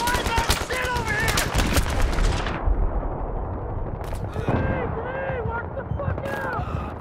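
Rapid gunfire rattles in bursts during a multiplayer video game battle against a tank, loud and close, with mechanical shot echoes, while players talk over the shooting throughout.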